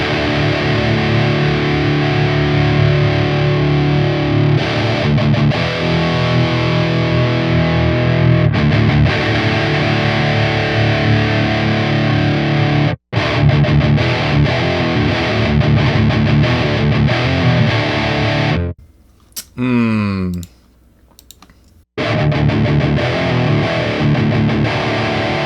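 Heavily distorted metal guitar, riffing through a Hotone Ampero with a Soldano cab simulation, thick and loud with chugging palm-muted rhythms, a brief dropout midway and a short near-silent pause before resuming.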